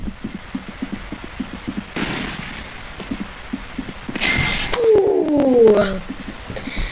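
Video game gunfire, a steady string of light, evenly spaced shots followed by a louder burst with metallic clanks and ringing pings of falling shell casings.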